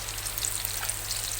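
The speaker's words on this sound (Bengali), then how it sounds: "এই যে মা মিষ্টি কুমড়োর বড়া ভেজে নিচ্ছে কড়াইয়ে।" Pumpkin fritters fry in oil in a wok, giving a steady, close crackling sizzle with a few sharper pops and no talking.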